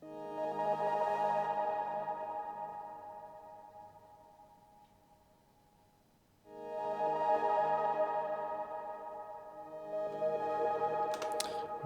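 Diva software synth preset Centauri Orphan, an 80s italo/synthwave-style pad: two long, swelling chords that bloom bright and fade slowly, alone and moderately quiet, with a third chord starting at the end.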